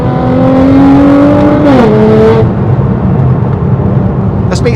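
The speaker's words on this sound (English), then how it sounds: "I've literally just tickled the throttle down a couple of gears just to let that exhaust rip a wee bit" A 640bhp Nissan GTR on air ride revs hard through a downshift, its loud exhaust tone holding steady, dropping in pitch with a brief blip, then easing back to a lower roar close by.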